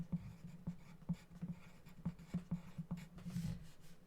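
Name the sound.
writing a name with a pencil on paper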